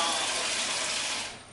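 Tap water runs steadily into a bowl, a close, continuous splashing stream that tapers off near the end.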